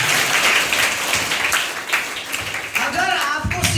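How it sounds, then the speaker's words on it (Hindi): Students at a career counseling program at a higher secondary school clap together in loud, dense applause that carries on steadily, with a voice speaking near the end. "जोरदार तालियां उसके लिए।"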